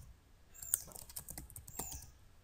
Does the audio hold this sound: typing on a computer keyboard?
yes